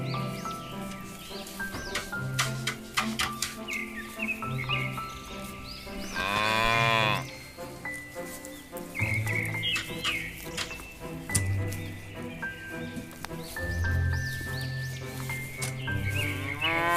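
Several cows low in long, deep moos at a farm, the calls overlapping and recurring from close by, with occasional bird chirps in the background and no talking.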